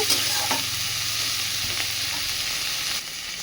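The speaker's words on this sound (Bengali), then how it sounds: "এবার সেই সরষা ফুলগুলো দিচ্ছি দিয়ে এখানে লবণ আর হলুদ দিয়ে দেব" Mustard flowers frying in a pan with salt and turmeric, a steady close sizzle with spoon scrapes and stirring strokes, unbroken and fairly loud throughout.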